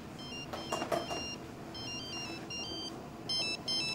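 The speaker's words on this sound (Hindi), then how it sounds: "महक का फोन है यार," A phone rings with an incoming call, its electronic ringtone repeating in short melodic bursts at moderate volume over a quiet room, with no talk.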